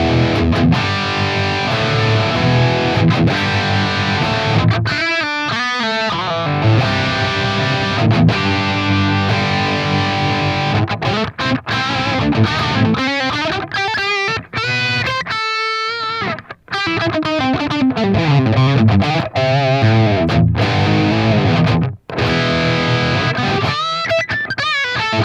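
Distorted electric guitar run through an Axe-Fx III with mixed cabinet IRs and a default amp block, playing loud, dense, saturated chords and riffs with brief choppy stops, unaccompanied and without talking.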